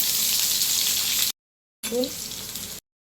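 Chopped onion, green chillies and curry leaves sizzling in hot oil with mustard seeds in a pan, a steady loud frying hiss that cuts off briefly, then returns with a brief stirring scrape.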